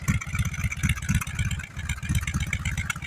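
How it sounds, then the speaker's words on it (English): A BMW R18 Transcontinental motorcycle's boxer engine idles nearby, its exhaust giving a low, steady, throbbing rumble. "You can hear that exhaust."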